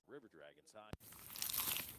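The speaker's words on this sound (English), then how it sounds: "Is that the sound of an ooey gooey cheesy crunchy slice of P-I-Z-Z-A?" A crunchy bite into a cheesy pizza slice follows a brief spoken phrase, then a sharp snap leads into a sustained, crackling crunch.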